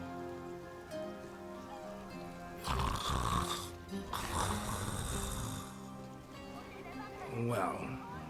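A man lying down breathes heavily in the video game Diablo IV, with two long, loud rasping breaths over steady background music and a softer breath near the end.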